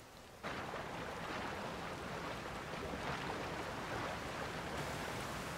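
Steady, dense rain in the video game Tears of the Kingdom, hissing evenly after a sudden start, a constant wash of rushing noise with no voices and no clear breaks.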